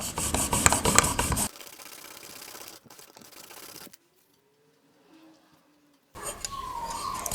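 A chisel blade held in a honing jig is rubbed across a sharpening stone in rapid rasping strokes, loud at first, then softer scraping, a pause of near silence, and another burst of brisk rubbing.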